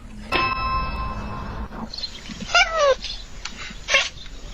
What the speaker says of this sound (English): Who's the meanest kitty of all?